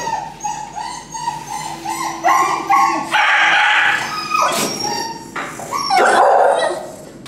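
A dog barks loudly and repeatedly close by, a series of sharp, strained barks and yelping, howl-like calls in uneven bursts.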